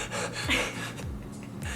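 A person imitates panting with a few quick, breathy gasps in short bursts, close to the microphone and fairly quiet.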